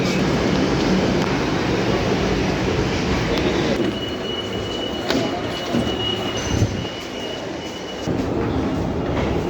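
Loud continuous rumble of a Kolkata metro train in motion, with rattling carriages and occasional metallic squeals from the wheels.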